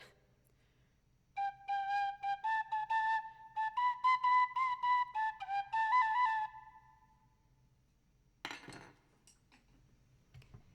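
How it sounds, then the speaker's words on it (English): A penny whistle plays a short run of clear, bright notes stepping up and down in a quick melody, followed by a brief clatter near the end, with no talking. "didn't think I was going to be featuring a penny whistle in my next video"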